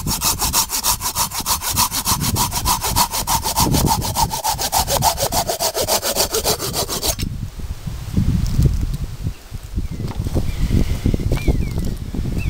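A Silky Pocket Boy folding saw cuts through wood with fast, rhythmic push-pull strokes, close and loud. The rasping changes tone partway through the cut.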